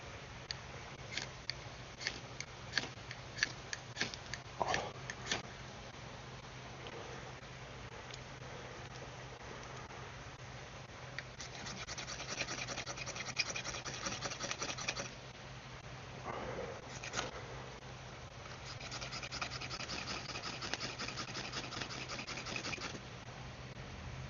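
A ferro rod is struck repeatedly to throw sparks onto lump charcoal outdoors at dusk, giving quick close scraping rasps in bursts, a cluster early then longer scrapes later, over a low steady background hum.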